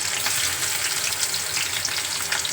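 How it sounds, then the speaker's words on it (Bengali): Chopped onions sizzle hard in hot oil for an egg tadka, a dense, steady frying hiss that fills the whole short stretch at close range with no voices. "এই যে প্রথমে দিলাম পেঁয়াজ"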